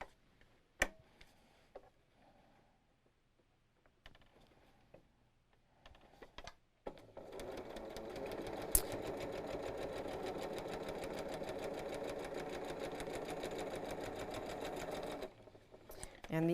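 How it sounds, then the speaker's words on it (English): A sewing machine runs steadily for several seconds with a fast mechanical whir, after a few quiet clicks and taps; close by and moderately loud. "Let's come back to the sewing machine."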